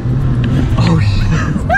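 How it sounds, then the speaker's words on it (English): Car engine rumbling and revving steadily on a Wales road trip, a continuous low drone with excited voices talking over it, then stalling out. "Keep revving it. Oh, it's dead, it's gone."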